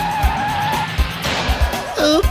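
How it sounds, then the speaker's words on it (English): A cartoon monster truck revs and skids before a race, with repeated short engine bursts, tire squeal and a rising whine near the end, loud and close. "Monster trucks rev their engines before a race."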